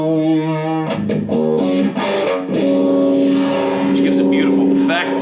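Distorted electric guitar chords sweep and swirl through an MXR Phase 95 phaser pedal, loud and sustained, with a few sharp strums before settling into a held, shimmering tone.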